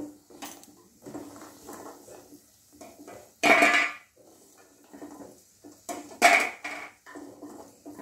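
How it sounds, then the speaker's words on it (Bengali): Fried lentil dumplings (bori) are scooped from a pan onto a dish, with soft scraping and two sharp metallic clanks of utensil on cookware. No one speaks. "বড়িগুলো হয়ে গেছে, আমি এবার একটা ডিশে এটা তুলে নেব"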